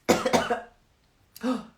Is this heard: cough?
yes